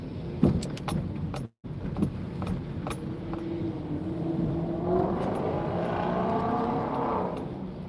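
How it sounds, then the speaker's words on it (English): Loud cars pass nearby on a city street in St Paul, engines roaring and revving in a steady rising rush, with scattered clicks and rattles close by. "Some loud cars over there."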